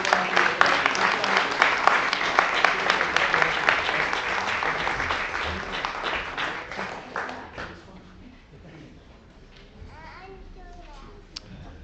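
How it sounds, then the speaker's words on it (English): Audience applause at a San Gabriel city council meeting awards presentation, loud sustained clapping from a roomful of people for about eight seconds before tapering off, with children's voices and chatter beneath and continuing afterward. "Let's give them all a round of applause."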